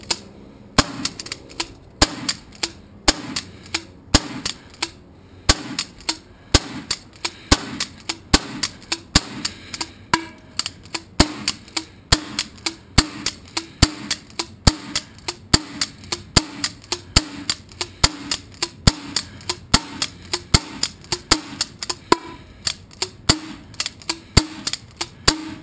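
A Benjamin Sheridan PGP long-barrel CO2 air pistol is cocked and fired over and over, with sharp, loud snaps and clicks falling in a quick, fairly regular rhythm and nobody talking.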